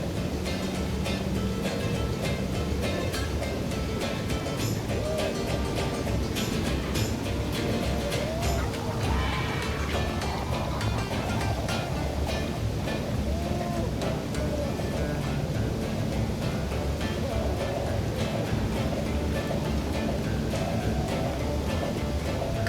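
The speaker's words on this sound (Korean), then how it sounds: "예령 없이 배는 곧바로 폭포 안을 비집고 들어간다." A boat speeding into the Iguazu waterfall, a dense unbroken roar of crashing, spraying water and engine noise, loud and close for the whole stretch, with faint voices mixed in.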